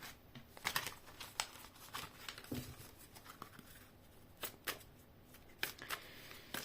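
Playing cards are shuffled close by in quick riffling bursts, with sharp snaps and crisp flutters repeating irregularly at a quiet level.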